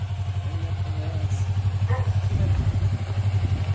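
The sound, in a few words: motorcycle engine idling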